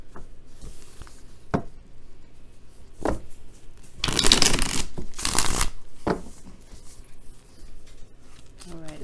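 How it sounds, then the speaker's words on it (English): Tarot cards being shuffled in two loud bursts of riffling mid-clip, with softer handling taps and rustles before and after, close and alone without talk. "Shuffle."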